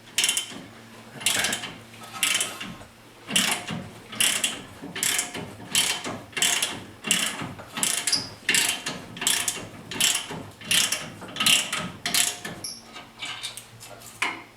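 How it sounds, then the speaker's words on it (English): A ratchet with a 21 mm socket loosens the bracket bolts on the front hub of a 2008 Chevy Colorado 4x4, clicking in quick, regular bursts of ratcheting strokes, close and clear with no talk. "You need a 21 millimeter socket for these bolts here that hold on the bracket."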